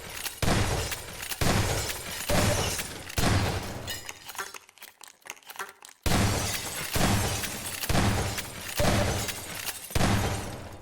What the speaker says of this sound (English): There's gotta be a better way to destroy all this glass